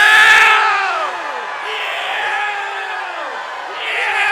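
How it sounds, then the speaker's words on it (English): A crowd at a youth-work conference screams and whoops together in loud, descending swoops, three or four waves rising and falling across a few seconds. "we're all going to go down together and we're going to scream"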